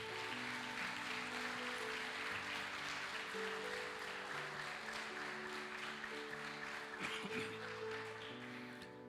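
A church congregation applauds during an evening Sunday service, the clapping a steady continuous wash over sustained tonal backing that fades slightly at the close.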